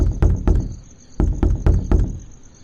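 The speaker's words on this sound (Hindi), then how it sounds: "घर पहुंचकर उसने दरवाजा खटखटाया।" Knocking on a house door: about seven sharp, close raps in two quick bursts separated by a short pause, alone without any talking.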